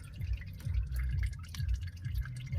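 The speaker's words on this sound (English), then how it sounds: "Oil's coming out of it." Engine oil drips and splashes out from under a Subaru Impreza WRX hatch during a service, a close, irregular run of wet spatters over low rumbling noise.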